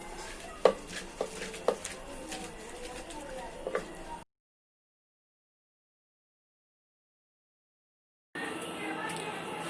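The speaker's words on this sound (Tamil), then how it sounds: "பண்ணி இதை கடைய போகிறோம்" Cooked amaranth greens (arai keerai) with salt are mashed for masiyal, giving a few scattered soft knocks and scrapes over a low background. A pause of silence follows, then a steady, even rustling noise.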